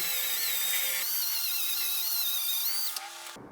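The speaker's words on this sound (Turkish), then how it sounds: "Keçe zımparanın oluşturduğu matlığı çok güzel temizliyor." A power drill whines steadily with a felt polishing pad spinning against a chipped glass edge, its pitch wavering, then the motor cuts off.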